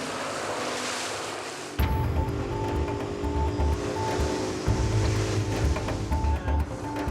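A wooden boat loaded with crude oil is rowed back across open water in Nigeria's oil lands, with steady lapping water and wind noise throughout, a low thumping rumble and a faint repeating tone in the background.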